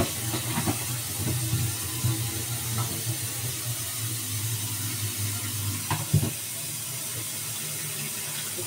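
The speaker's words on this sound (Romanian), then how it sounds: "să-mi pun apă aici" Tap water runs steadily into a container in a home kitchen while a walnut cake layer is prepared, a continuous hissing splash with occasional knocks and clatter, then cutting off near the end.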